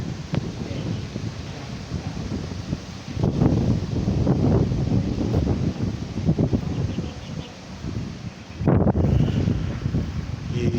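Steady wind gusts buffet the microphone outdoors at Kaybiang Tunnel in the Philippines, rising and falling in loud rumbling bursts with a rustle in the background.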